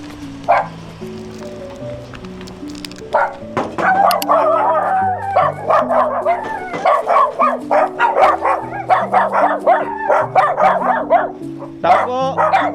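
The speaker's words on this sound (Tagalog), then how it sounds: "May aso." A dog at a family home barks and yips repeatedly, with howling and whimpering mixed in, loud and close over steady music, while people talk at times.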